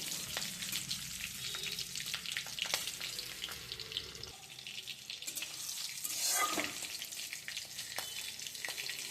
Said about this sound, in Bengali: এবার ফোড়নটাকে আমি একটু ভেজে নেবো